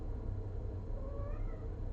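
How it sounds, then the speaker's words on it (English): A cat gives a faint drawn-out meow, rising and wavering, heard at a distance over a low rumbling indoor background with no talking. "I hear a kitty cat."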